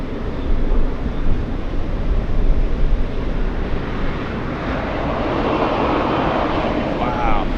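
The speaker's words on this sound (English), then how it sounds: "we do have the 777 on the move" Boeing 777 taxiing at Boston Logan airport, heard as a steady, loud roar of jet engine noise that builds slightly toward the end, with broadband rumble filling the scene.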